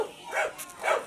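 A dog gives two short, sharp barks roughly half a second apart, fairly close and clear against a quiet background.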